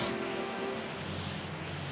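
Steady rain hisses in a continuous wash, moderately quiet, with a low tonal hum underneath and no speech.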